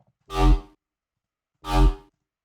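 Two short, deep bass house synth bass notes, each swelling briefly and cutting off, separated by a pause of silence.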